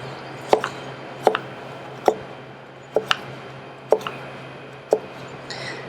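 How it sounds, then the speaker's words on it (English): A knife chops vegetables into thin julienne strips on a cutting board, sharp distinct knocks about once a second, close and clear over a quiet room hum. "I'm going to keep these and cut them into thin strips, or what we would call a julienne"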